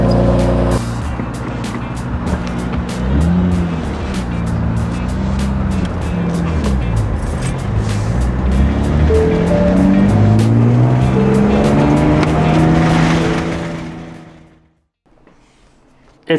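A brand new Z car drives past with an engine that roars loud and steady, its pitch rising and falling through the gears for several seconds. Then it cuts off abruptly into near silence.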